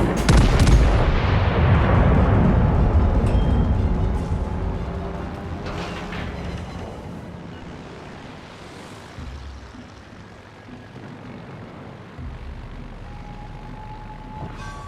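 Naval guns fire and shells explode as an enemy battleship is destroyed in World of Warships, opening with a heavy, loud blast that rumbles and decays over several seconds, followed by scattered booms and lingering distant rumble.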